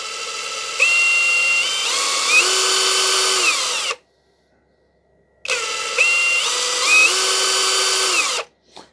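A Litheli U20 brushless impact driver runs in high-speed mode: two loud, close bursts of whining motor with rising pitch, each about three seconds long, separated by a short silent gap.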